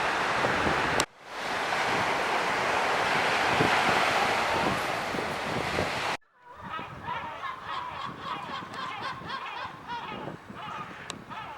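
At the Mediterranean seaside by the port of Sète in November, wind roars against the microphone over breaking surf. After two abrupt cuts the scene turns to a calmer wash of waves with scattered background noises.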